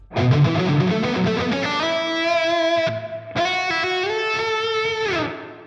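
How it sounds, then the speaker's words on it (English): Electric guitar notes played through a delay and reverb pedal with reverb at maximum and color at minimum ring out through heavy reverb, long washy tails sustaining and blending between strums before fading away. "now I'm gonna try turning the color all the way down and the reverb all the way up"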